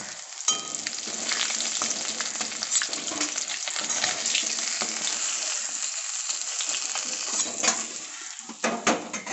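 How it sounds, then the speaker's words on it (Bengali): Remaining pieces of rui fish sizzle and crackle steadily in hot oil, a continuous close frying hiss with occasional light clinks of a utensil against the pan. "একইভাবে আমি বাকি মাছগুলো ভেজে নেব।"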